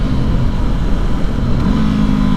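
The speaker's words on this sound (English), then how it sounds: "I'm increasing the RPMs of the bike to try to match the revs to the speed for that particular gear" Honda CB500X motorcycle (2019) engine blipping and revving for a rev-matched downshift from third to second gear, a loud continuous mid-range engine drone with a rising pitch toward the end, recorded close with no talking.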